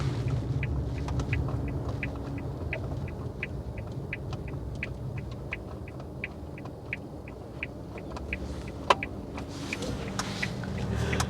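Steady low engine and road rumble from inside a moving 2019 Suzuki Wagon R with a 660 cc engine, with a faint regular ticking and a brief click near the end.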